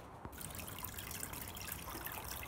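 Water from a hose trickles and splashes steadily into a small dog pool being filled outdoors, a continuous close, bubbling stream with no voices.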